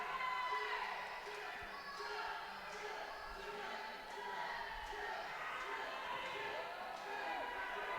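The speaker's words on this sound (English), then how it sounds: "Here comes the crowd back into it." A wrestling crowd at an SFCW Thanksgiving 2021 show cheers and shouts, a steady distant roar of voices filling the hall, with a commentator talking over it.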